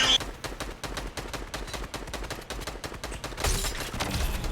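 Shotgun blasts and gunfire from a video game, a dense run of sharp repeated bursts over busy game sound, steady and loud with a swell toward the end.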